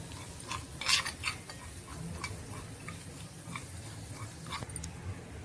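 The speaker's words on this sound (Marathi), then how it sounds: "तिखट आपण परतून घेऊया." Red chili powder and turmeric sautéed in hot oil for a tempering for raw mango takku: quiet scraping and clinking of a spoon against the pan over a faint low sizzle, with soft irregular taps.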